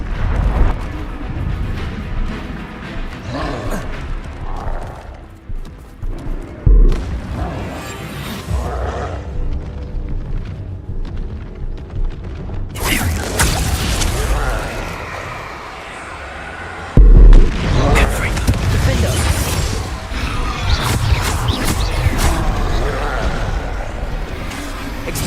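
Bombarda and Confringo spell blasts in Hogwarts Legacy, a string of loud booming bursts and crackling impacts that recur through the combat, with heavy low rumble between them and no talking.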